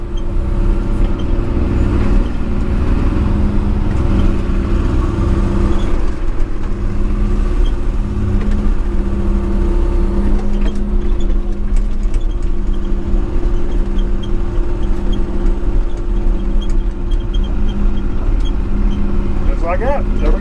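Heavy excavator engine droning steadily and loudly while digging a house basement, a constant low rumble with faint hydraulic whine and occasional clanks, no talk.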